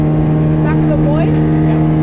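An outboard boat motor drones steadily on an estuary during a fishing trip, a constant loud hum with a rising whine, while people talk over it.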